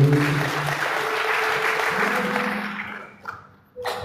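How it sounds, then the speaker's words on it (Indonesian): A church congregation claps at a worship service, a dense, loud round of applause that holds steady and then thins out with a few scattered claps toward the end. "Bisa berikan tepuk tangan buat Tuhan."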